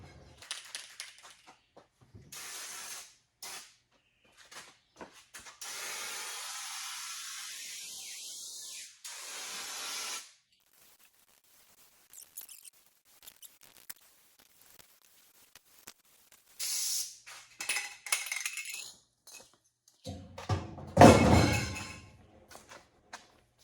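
Aerosol spray paint hisses in long bursts onto a tin bus ceiling, several sustained sprays with pauses and handling noises between, the loudest burst near the end.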